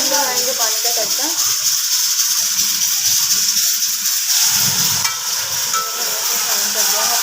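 Loud, continuous hiss and sizzle of masala frying in a pan right after water is added, close up, with scraping stir sounds and faint voices underneath.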